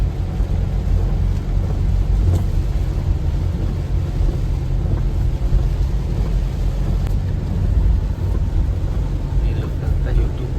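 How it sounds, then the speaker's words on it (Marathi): Heavy rain pours down steadily in a city, a loud continuous roar with low rumbling that suggests thunder, unbroken for the whole stretch. "जर असं पाऊस असला तर घरातून काय निघायची येत ना"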